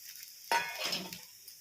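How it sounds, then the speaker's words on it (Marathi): Appe, a fasting-style batter snack, frying in a little oil in an appe pan: a sudden sizzle as oil hits the hot pan, then a soft crackling hiss that fades, close and quiet with no talking. "दुसऱ्या बाजूला भाजून घेऊया पण थोडं थोडं तेल टाकून घेऊया"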